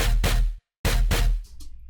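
A processed drum and bass bass pluck shaped with Ableton stock plugins hits in heavy, punchy bursts, a short sharp gap, then more loud hits trailing off into a thinner tail.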